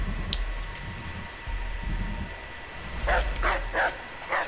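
A dog in the video game The Tyranny of King Washington barks several times in quick succession near the end, after a stretch of quieter background ambience.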